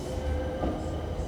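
Inside a moving SWR class 455 electric train dating from 1983, a steady low rumble of wheels on track continues with a faint whine and no talking.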